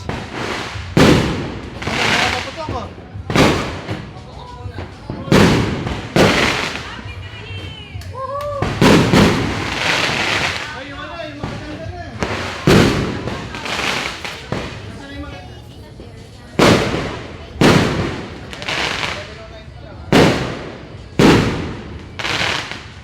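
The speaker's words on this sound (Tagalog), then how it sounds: "Oh, fireworks." New Year's fireworks and rockets burst in repeated loud cracks and booms, some rapid crackling volleys, close by, with people talking between the blasts.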